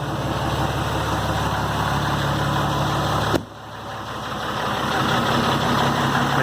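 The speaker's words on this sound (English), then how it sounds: "Making a few noises, but I'm right into fast idle." A 2016 Cummins diesel pickup truck idles at raised fast idle just after a cold start in zero-degree Fahrenheit weather, a loud, steady close rumble with a brief dip midway, then a constant clattering drone.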